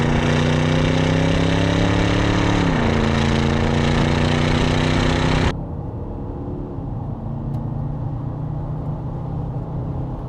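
An Audi V8 TDI diesel engine idles with a steady, rich low rumble that dips slightly midway, then the sound abruptly drops to a quieter, muffled hum as if heard from inside the car.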